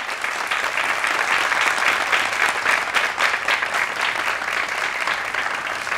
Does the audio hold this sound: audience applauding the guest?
yes